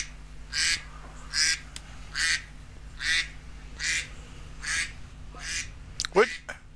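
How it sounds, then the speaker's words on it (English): A duck quacks in a steady series of about nine evenly spaced, nasal calls at moderate distance, ending in a sharper, louder squawk. "Will you let that duck out?"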